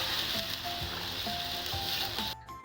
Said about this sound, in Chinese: 我们把猪肉炒一炒，炒到均匀的上色了